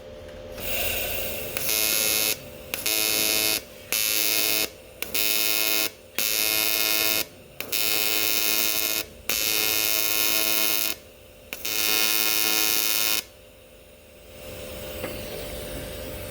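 Welding on an aftermarket power steering tank: a loud steady electric buzz and hiss in repeated bursts of one to two seconds, broken by short gaps, then a longer final run before it stops and a low hum remains.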